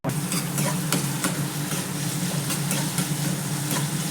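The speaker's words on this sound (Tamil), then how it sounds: "வெங்காயம் நல்லா எண்ணெயில் கொஞ்சம் வதங்கட்டுங்க." Chopped onions sizzle steadily in hot oil, with occasional scraping as they're stirred in the pan.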